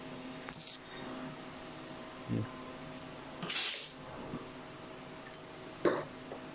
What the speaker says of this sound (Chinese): 来对它进行一个充气